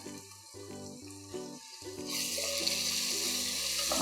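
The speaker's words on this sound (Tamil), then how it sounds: "மசாலா சேர்த்து நல்லா கிளறி விட்டுக்கலாம்." Ground masala being fried and stirred in a pan for mutton kheema biryani, a steady sizzle that swells louder partway through, with scraping stirring motions underneath and faint background music, no talking.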